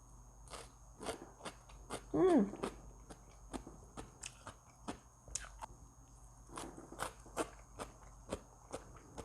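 Crisp, close crunching bites and chewing of a fresh Korean cucumber salad, a bright bite followed by irregular quiet crunches, with a brief murmur of voice.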